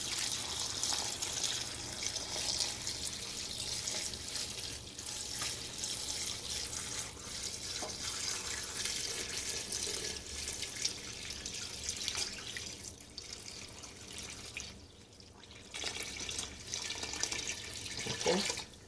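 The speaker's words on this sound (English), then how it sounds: "Okay, that was about a gallon of water." Tap water runs steadily and fairly loud into a large gumbo pot in a home kitchen, a continuous hissing splash lasting the whole stretch, with slight changes toward the end.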